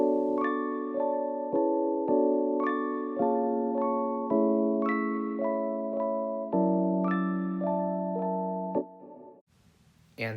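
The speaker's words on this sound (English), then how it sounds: "This is my Rhodes sound from Ableton Electric." Rhodes electric piano from Ableton with chorus, auto pan, amp, cabinet, reverb and EQ plays a slow progression of soft, warm chords in a steady pulse, fading out near the end; no one speaks.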